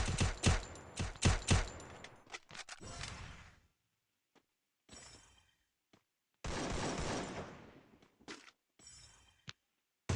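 Bursts of gunfire in the Free Fire video game on the new Solara map, rapid volleys and single shots in clusters, loud and close, separated by short quiet gaps.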